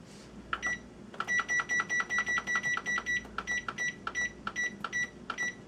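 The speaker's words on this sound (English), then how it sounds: "As you can hear, our timer is going off" A kitchen timer beeps in a rapid, steady series of short electronic tones while sausage pilau cooks, close and fairly loud, with a few brief pauses between bursts.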